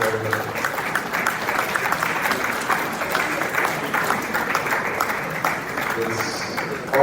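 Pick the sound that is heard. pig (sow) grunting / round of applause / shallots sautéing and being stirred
round of applause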